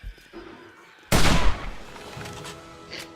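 A single loud bolt-action rifle gunshot in the survival game 7 Days To Die, a sharp blast about a second in that rings out and decays, with faint game ambience before and after.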